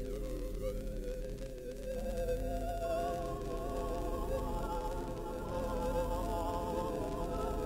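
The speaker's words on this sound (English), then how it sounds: "We've got a bit crusher." Bit-crushed synth patch from the OCTANE rompler app on iOS, a dense, gritty, continuous digital texture with steady loudness throughout, heard alone.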